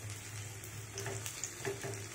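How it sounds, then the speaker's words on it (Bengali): Broccoli paratha frying in oil on a griddle, a faint steady sizzle with a few small pops and the light scrape of pressing, heard close up with no talking. "চাটুর মধ্যে তেল দিয়ে দিয়েছি, একটা একটা করে পরোটা দিয়ে দিচ্ছি"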